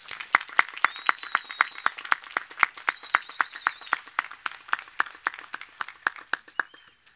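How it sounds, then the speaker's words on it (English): Audience applause for nursing graduates at a spring university commencement ceremony, heard as a steady run of distinct, fairly sparse claps with no talk over it. "How about a round of applause for our nursing graduates?"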